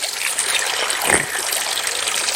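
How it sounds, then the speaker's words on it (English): Cold drinking water runs steadily from a public drinking fountain in Italy, a continuous close trickle and splash with a slight surge about halfway through. "this isn't just a fountain, it's drinking water. And it's cold and fresh."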